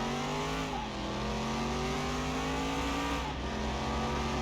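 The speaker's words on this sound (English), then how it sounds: "Look at that V6 revving up." A V6 Camaro engine in Car Mechanic Simulator 21 revs continuously, its pitch climbing steadily through the gears with a brief dip at a shift, loud and close with no talk.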